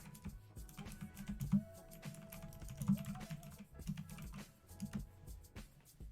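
Rapid clacky keystrokes typed steadily in uneven bursts, close and crisp, with a faint tone humming faintly behind.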